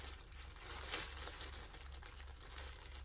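Paper sewing pattern piece folded in half, a soft crinkling rustle of paper running throughout, close and fairly quiet with a brief louder crackle near the start.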